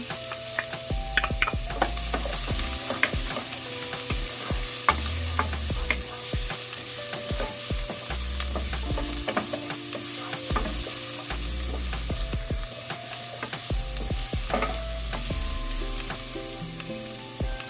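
Garlic sizzles steadily in a hot pan while being stirred, with repeated scraping and clanking of a spatula against the pan; busy, close and continuous, no voices, cooking for a beef kaldereta with cheese.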